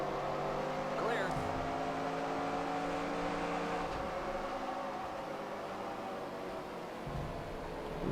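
Race cars drone and whine past in NASCAR Racing 2003, a 1990 Busch Series race at Richmond, with a steady engine hum and a nearby car sweeping by early on; a voice speaks over the engines.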